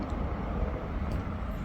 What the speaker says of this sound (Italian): sentite però il rumore è quello di un jet